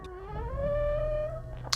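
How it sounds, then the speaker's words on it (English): An Audi A3 Saloon's offside door mirror creaks and groans as it folds, a drawn-out rising squeal over a low cabin hum, ending with a short click. "That noise you can hear, by the way, is the offside door mirror."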